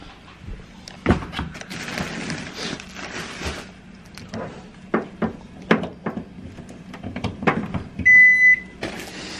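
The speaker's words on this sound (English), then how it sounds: "Microwave." A microwave hums steadily amid scattered clicks and clatter, ending with a few electronic beeps near the close.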